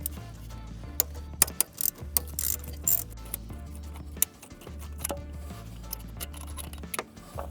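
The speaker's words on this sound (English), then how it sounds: "Now remove two more 12mm bolts on the top of the compressor." Quiet, close ratcheting clicks and tool handling while 12mm bolts are removed from the top of an AC compressor on a 2007-2012 Nissan Altima, with a low hum underneath and irregular sharp ticks.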